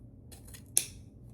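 Scissors snip once through wreath ribbon, cutting a tail for a spring Easter bunny door wreath; a single crisp, close cut stands out over a faint background.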